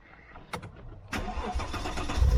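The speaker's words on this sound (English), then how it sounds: "This one's got a sports exhaust. Let's start it up." A small sports coupe fitted with a sports exhaust cranks and fires up, a brief whirr followed by the engine catching and settling into a louder, rising idle.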